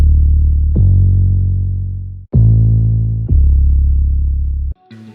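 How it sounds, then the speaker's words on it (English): A hard-driven, distorted 808 bass hits chord roots in three long, booming sustained notes that slowly decay, loud and alone, with a brief clicky hit at the end. "So already quite a hard 808, quite a lot of oomph, quite a lot of drive."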